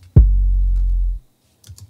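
One low 808 kick drum hits with a sharp transient attack and a deep, sustained boom that rings for about a second before cutting off, followed by faint clicks.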